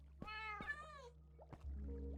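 Cat in Minecraft giving a couple of clear, quick meows close up, followed by a softer short mew over a low game hum, with no talk.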